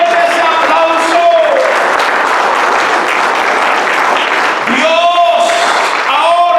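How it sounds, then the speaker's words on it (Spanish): A church congregation applauds loudly and continuously, dense clapping with music tones and voices mixed in throughout. "Dale fuerte ese aplauso."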